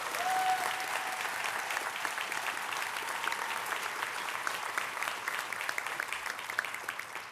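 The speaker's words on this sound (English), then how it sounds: "Now you can go ahead and clap for that." Sustained applause from a ceremony audience at a university white coat ceremony, a dense, steady wash of many hands clapping at even loudness throughout, with no talking over it.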